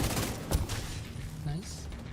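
Turret gunfire in The Division 2 crackles in a dense, near burst of rapid shots beneath game noise, with a sharper crack about halfway through and a speaking voice over part of it.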